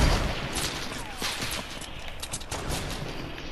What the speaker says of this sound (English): He shot at me, so I shot at him.